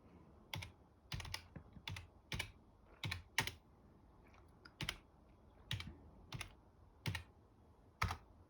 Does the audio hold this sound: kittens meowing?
no